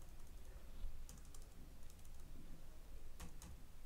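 Arrow keys on a computer keyboard click in a few quick, light taps and short bursts, faint over a low background hum.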